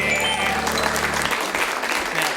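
An improv comedy show audience breaks into dense, sustained applause for the tech booth operator, loud and close, with a lingering musical tone fading out early.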